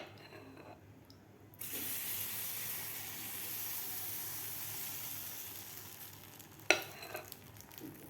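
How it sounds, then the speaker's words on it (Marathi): Rava and poha dosa batter meets a hot pan with a sudden broad sizzle that keeps hissing steadily, loud and close, with a couple of sharp clinks near the end and no talking. "तर आपल्याला हे बनवून घेतलेलं बॅटर यामध्ये घालायचं आहे आपल्याला."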